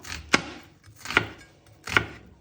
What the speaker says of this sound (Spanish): Para ello necesitamos cortar la cebolla finita